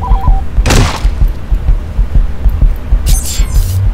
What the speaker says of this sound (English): Okay. Heartbeat time.